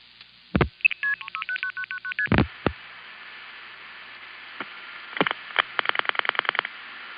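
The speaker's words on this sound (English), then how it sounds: "Commerce NX1, which dials the last 4 digits into the Jefferson Stromberg XY" Long-distance telephone call signalling from the mid-1970s, dialing digits into a Stromberg XY step-by-step exchange. A rapid sequence of stepped multifrequency tones is framed by sharp clunks, then later comes a run of evenly spaced switching clicks, all heard over a thin, band-limited line hiss.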